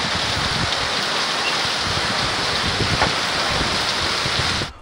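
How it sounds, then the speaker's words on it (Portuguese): Heavy rain in the Tapes region of southern Brazil, a dense, steady hiss of falling water pouring down loud and unbroken for several seconds before cutting off abruptly. "fortes chuvas atingiram a região e causaram muitos estragos"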